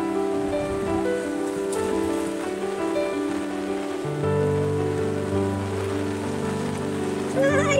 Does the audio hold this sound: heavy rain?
yes